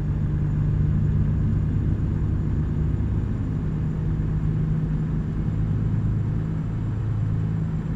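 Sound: truck engine brake, Volvo VNL in American Truck Simulator video game

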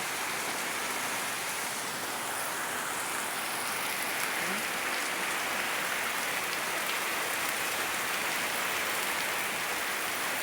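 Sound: heavy rain falling

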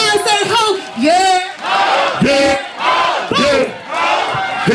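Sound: concert crowd shouting "ho" in call-and-response

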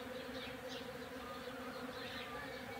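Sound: bees buzzing around

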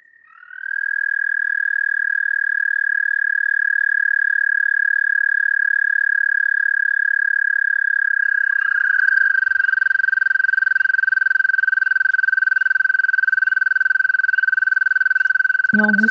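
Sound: American toad calling, long high-pitched trill

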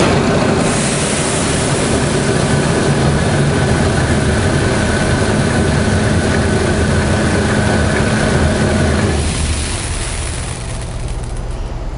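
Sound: Bourgault air seeder calibration motor running the metering auger

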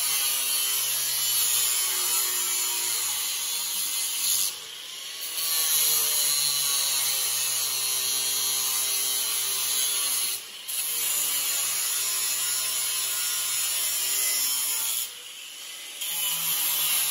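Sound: cutting a 16-foot hog panel into smaller panels

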